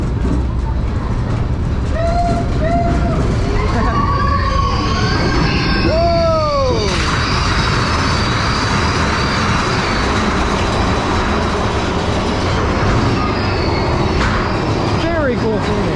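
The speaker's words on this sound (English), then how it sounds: "Off we go on one of the most iconic roller coasters in the world, Big Thunder Mountain Railroad here at Magic Kingdom" Big Thunder Mountain Railroad, a mine-train roller coaster at Magic Kingdom, Disney World, rumbles and clatters along its track amid a constant loud roar, with whistle-like tones and riders' voices and screams mixed in.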